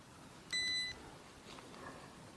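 A TS 160 metal detector gives a single loud electronic beep lasting under half a second as it passes over a target outdoors, followed by faint background noise.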